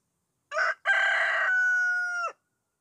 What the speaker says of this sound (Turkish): Bir benim karga sesim, bir de horozumun. Yarışıyoruz ikimiz.